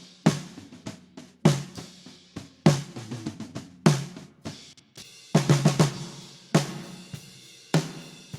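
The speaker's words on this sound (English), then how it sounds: "So the snare group together sounds like this." A recorded live snare drum group, mixed with EQ, reverb and compression, strikes in a steady rhythm of sharp hits with short reverb tails, some quick ghost-note rolls between them, with no other sound around.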